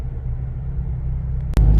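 Steady low catback exhaust rumble from a Chevy Colorado ZR2 Bison truck with MBRP exhaust driving in traffic, with a brief sharp thump near the end as the engine note swells louder.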